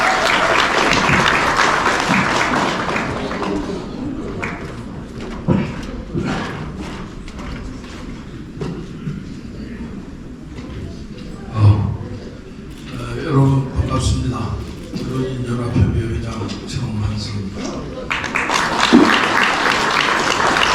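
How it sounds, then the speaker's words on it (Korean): Audience applause at the 2024 Korean Chunghyo and Proud Korean award ceremony, a sustained crowd clapping that swells near the start and end, with an announcer's voice and murmured talk over it in between. "여러분 큰 박수 부탁드리겠습니다"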